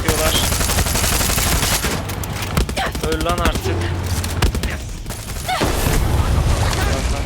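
Dense bursts of rapid gunfire crackle through a busy Far Cry 6 game soundscape, with someone speaking briefly over the shooting and loud explosive booms.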